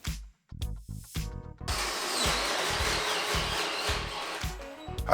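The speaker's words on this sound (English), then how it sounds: "Then we start to drilling" A power drill with an auger bit bores into butcher block wood, starting with a few short bursts and then running steadily under load with a grinding, uneven whir.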